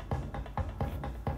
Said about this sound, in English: It's like a drum pattern. Some like bongos or whatever.